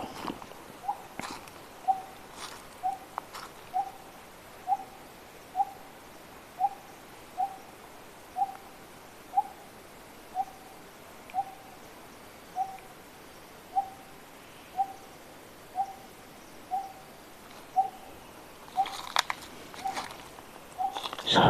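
A large bird gives a repeated low hoot at a steady, regular pace, about one call per second, moderately distant, with faint ambience of a teak forest between calls.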